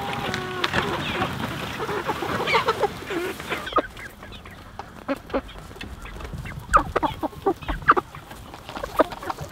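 Big Red Broiler meat chickens cluck and call in a moving chicken tractor on grass. Soft rustling and scraping come first, then repeated sharp, close clucks and squawks in irregular bursts.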